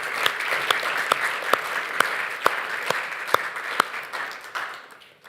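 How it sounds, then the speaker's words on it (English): A church congregation claps after a personal testimony at an evening service, a moderate round of applause with distinct sharp claps standing out, tapering off over about five seconds. "Can we give a round of applause?"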